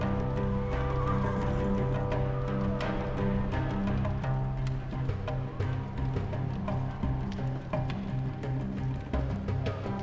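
Nervous horses in the adventure video game Secret Files 3: Archimedes Code whinny and neigh repeatedly over a continuous bed of hoof clip-clop and stable ambience, loud and close.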